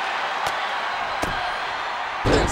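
A wrestler slammed face down in the WWE 2K23 video game: three sharp, loud impacts about a second apart over steady arena crowd noise, the last one heavier and longer.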